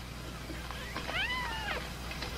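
A single thin, high kitten meow rises and falls once, faint over a steady background hiss.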